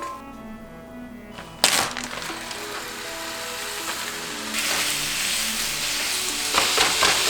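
Venison and onions fry loudly in a pan, a steady close sizzle broken by sharp crackles and bursts as the food is stirred.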